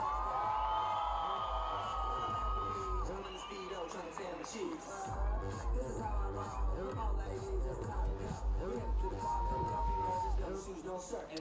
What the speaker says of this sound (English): Est-ce que vous pouvez l'applaudir, s'il vous plaît?